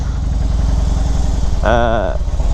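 Harley-Davidson Fat Bob motorcycle engine running at a steady idle on a windy day, a loud, close, pulsing low rumble throughout, with a short burst of a man's speech over it near the end.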